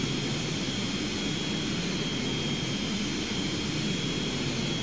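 Airplane engine in the FlightGear flight simulator, a loud, steady, unbroken roaring drone with a thin constant whine above it and no voices.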